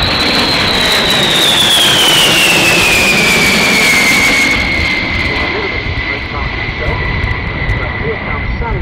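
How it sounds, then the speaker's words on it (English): A USAF B-52 bomber passes overhead at the Cosford airshow, a loud, continuous roaring jet engine drone with a high whine that falls in pitch as it goes by, heard under crowd noise. "here's the B-52 coming through"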